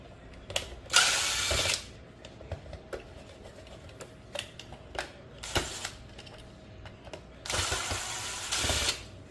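Screws being backed out of a Paramount pool cleaning module, set up on wood blocks, giving scattered small clicks and ratcheting taps with a few louder bursts of scraping, close and fairly quiet, no talking.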